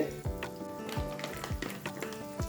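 Paneer roasts in butter and oil in a pan, a close, loud, steady sizzle with rhythmic stirring scrapes repeating roughly every half second.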